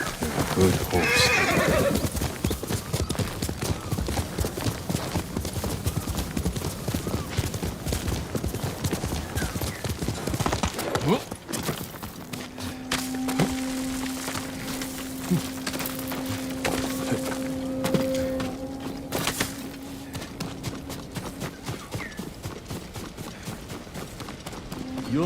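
A horse in the video game Ghost of Tsushima whinnies loudly and clip-clops along at close range, with hoofbeats thudding steadily beneath the neighs before the sound thins out, and voices speak in the background.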